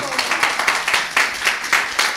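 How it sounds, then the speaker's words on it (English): An audience at a devotional kirtan gathering claps together in a steady round of applause. The clapping is close, even and fairly loud for the whole stretch, with voices mixed in underneath. "So good round of applause to everybody."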